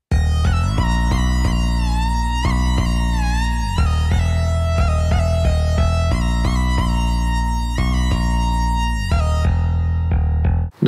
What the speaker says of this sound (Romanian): ia notele exacte ale synth-ului și cântă împreună pe aceleași note și împreună sună cam așa.